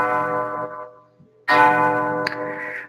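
A bell rings near a class session, a sustained tonal ring that fades out, a short pause, then a louder renewed ringing with a bright metallic strike partway through, heard alone without talk.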